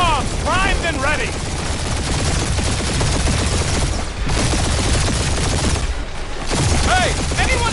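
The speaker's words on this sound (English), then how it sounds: "We're taking fire." Rapid, sustained gunfire and explosions from a battle in Marvel's Guardians of the Galaxy video game, dense bursts running loud throughout, with voices talking over the combat.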